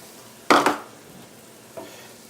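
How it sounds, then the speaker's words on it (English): Two cups of arborio rice poured into a pan of softened onions, a loud rattling rush with a second spill right after, then a faint clatter; no talking. "we are going to throw in our 2 cups of arborio rice"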